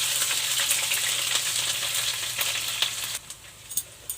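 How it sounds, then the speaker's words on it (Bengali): Chopped onions with cloves, cumin and a pinch of sugar sizzle loudly in hot oil, then the frying quiets abruptly, leaving a few utensil clatters. "দিয়ে পেঁয়াজটা ভাজা ভাজা করে নিই।"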